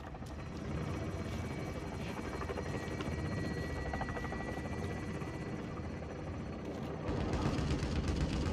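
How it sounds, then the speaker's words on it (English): Chopper gunner helicopter in Modern Warfare (2019) multiplayer: a steady, loud rotor drone fills the whole stretch, swelling near the end, with battle noise around it. "Friendly chopper gunner inbound."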